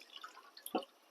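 A few faint, close drips of water, ending in one clearer plop into a pot, then quiet.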